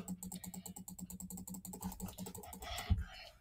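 Rapid, evenly spaced mouse clicks during a game of Cookie Clicker, a quick run of sharp taps near the microphone that grows busier and more irregular toward the end, with no talking.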